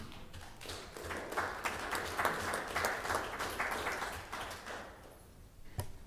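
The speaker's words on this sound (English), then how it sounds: "So it's great to clap" A crowd applauds steadily at a Midwest City, Oklahoma city council meeting, with dense, overlapping claps that hold a constant level, then thin out and fade near the end, punctuated by one sharp final clap.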